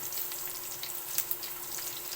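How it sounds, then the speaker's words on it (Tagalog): Garlic sautéing in a pan: steady, fairly soft sizzling and crackling with a few sharper pops, heard close with no talking. "habang aking ginigisa ang bawang"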